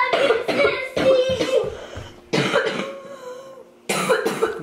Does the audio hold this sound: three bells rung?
no